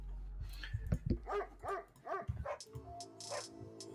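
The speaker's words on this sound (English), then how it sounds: "Sound like you got a dog kennel in there." Several dogs bark in quick bursts, a run of sharp yaps and yips with some whimpering, moderately close and fairly quiet overall.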